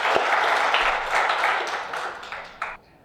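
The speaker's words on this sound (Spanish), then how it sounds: "Un aplauso para" An audience applauds at a Spanish-language talk on education and freedom, a full burst of clapping that thins and fades out near the end.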